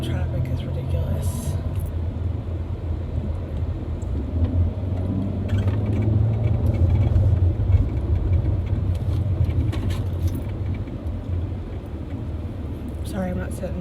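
Steady road traffic rumbles past a bike trail, a continuous low drone of cars and engines that stays fairly close and even, with occasional brief higher noises on top.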